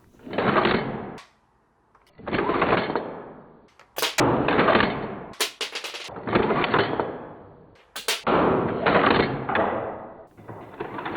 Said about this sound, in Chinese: 我们可以手动拉动拉机柄来模拟击发以后剩余气体推动枪机回膛抛出弹壳的过程